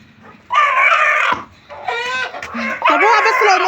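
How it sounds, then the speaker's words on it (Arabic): Chickens on a rooftop being handled by children, giving loud, close, agitated squawks and clucks in several bursts, with people talking over them. "بالراحة على الفراخ يا ولاد"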